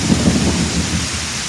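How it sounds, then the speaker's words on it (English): Storm Debby brings a low rumble of thunder over steady, heavy rain, loud and close, a dense wash of rainfall with the thunder swelling briefly at the start. "and there's another lightning strike."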